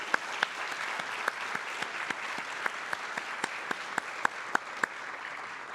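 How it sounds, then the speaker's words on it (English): Applause for two award recipients at a high school music awards ceremony, a steady indoor patter of many hands with sharp individual claps standing out, with no voices over it. "How about another round of applause for these two outstanding individuals?"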